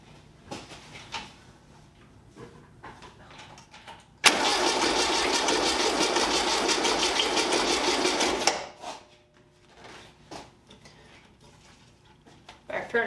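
An 1835 VW sandrail engine with a fault, running on two cylinders, cranks and fires into a loud, rough, rattling run for about four seconds, then cuts out, with quieter clicks and handling noises before and after.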